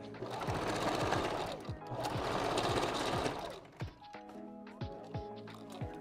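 A sewing machine stitches hair bundles onto a 5x5 closure wig, with two loud, rapid whirring runs followed by slower, lighter stitching and clicks. There is some faint talk.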